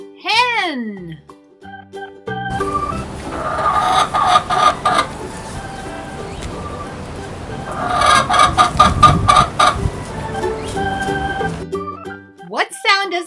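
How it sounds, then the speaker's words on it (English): A hen clucks in a couple of loud, busy bursts amid a noisy farmyard background, with children's voices at the start and end. "What sound does a hen make?"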